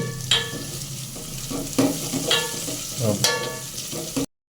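Onions frying slowly in a pan over a low flame, a soft steady sizzle broken by a few louder clinks and scrapes of stirring, close by with no talking.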